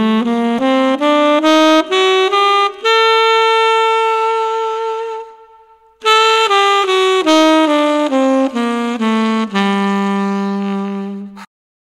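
Tenor saxophone running an A harmonic minor scale up to the ninth, clear separate notes climbing then held, followed by a second pass descending, loud and close with no voices.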